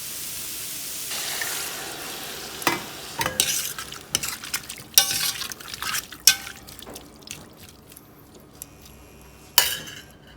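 Water added to a pot of smoked pork (boucané) seasoned with Creole saffron, giving a soft sizzling hiss broken by sharp stirring scrapes and splashes of liquid at irregular moments, close and fairly loud.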